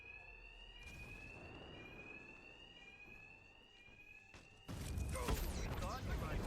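A steady alarm rings in Batman Arkham Knight, a continuous high electronic tone running for several seconds under a voice, then giving way to a louder burst of crashing action noise.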